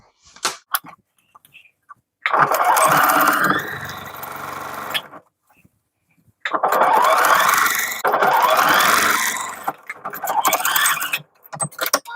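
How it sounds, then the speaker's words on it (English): Sewing machine stitching around the top of a tote bag, several long loud mechanical runs of rapid stitching separated by short silent pauses and a few small clicks. "I'm going to sew right around the top"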